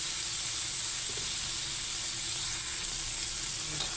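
Steady, dense sizzle of frying in a hot pan, continuous and close with hissing oil throughout, no talk; crushed ingredients are cooking before pork chops go in.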